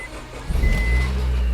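A 2005 Honda Civic engine catches and settles into a rough, uneven idle, a steady low rumble with a faint tonal whine heard close by.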